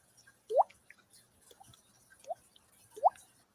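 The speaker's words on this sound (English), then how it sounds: "the water drop noise" Water drops falling into an aquarium, three or four distinct hollow plinks spaced about a second apart, fairly quiet and close, with no voices.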